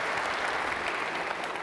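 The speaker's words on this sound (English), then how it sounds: "I think Kondo deserves a round of applause." Brief burst of audience clapping at a 2009 Edinburgh robot show for the Kondo humanoid robot, an even, continuous rattle of many hands at moderate level with no voices over it.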